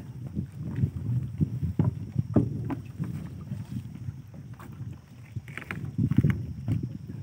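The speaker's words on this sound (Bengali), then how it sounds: "এদার নৌকা এক পাশে কাত হয়ে যাচ্ছে" A small wooden fishing boat in the Sundarbans rocks and creaks on the water, with soft knocks and sloshing under gusty wind noise, heard up close without talk.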